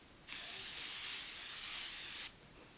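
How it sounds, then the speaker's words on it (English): A single continuous hiss of Morphe Life Proof Continuous Setting Spray mists onto a face for about two seconds, very fine, close and steady, then stops cleanly. "I am going to spray my face with this Morphe Life Proof Continuous Setting Spray"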